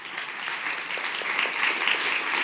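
Audience at a community listening session claps, a dense steady round of applause at moderate distance, sustained through the moment without speech.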